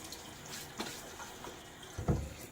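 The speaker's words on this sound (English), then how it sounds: "Get my face wet again." Quiet water sounds while wetting a face during a wet shave, faint trickling with a soft splash near the end, close by.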